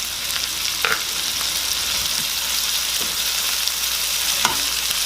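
Tiger prawns fry in a pan with a steady, bright sizzle, broken by a few sharp pops and spits of hot oil, alone without any voices.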